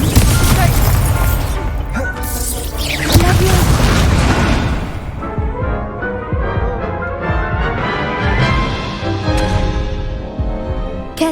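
Loud booming explosions of the Confringo spell in Hogwarts Legacy, heavy crashes that fade into a rumbling, ringing tail, with a voice shouting the spell over them.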